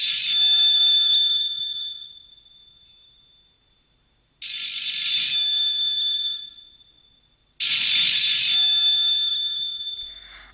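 Telephone ringing in three loud, bright electronic bursts, each about two seconds long and separated by short pauses, with no other sound in between, in a domestic scene from a Bengali drama.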